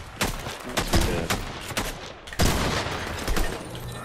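A gold ranger pistol fires in Fortnite, a series of sharp, loud shots in uneven bursts with brief gaps between them.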